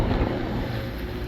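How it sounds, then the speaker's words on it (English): Steady, blustery wind buffets the microphone in a low continuous rumble at a dusty outdoor industrial site, loud and unbroken with no voices. "It's a little windy out today."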